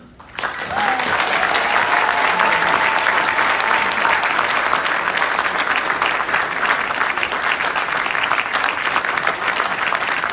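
A conference audience in Tanzania gives a long, loud burst of dense applause that stays at full strength throughout and fills the room, with a faint murmur of voices beneath it.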